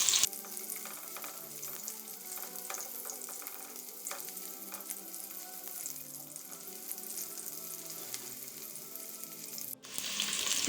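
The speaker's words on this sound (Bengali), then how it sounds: "পেঁয়াজ রসুনগুলি আমি 2 মিনিট ভেজে নেব।" Chopped onion and garlic fry in oil in a pan, a dense, even crackling sizzle with faint stirring taps, close and steady throughout, briefly shifting near the end, with no one speaking.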